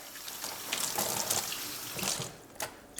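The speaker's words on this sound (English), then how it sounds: "I actually probably might add a little bit of water to that" Water pours into an Instant Pot while meal-prepping and cooking, a steady splashing, trickling stream like a running tap, close and moderately loud over about three seconds, with no talking.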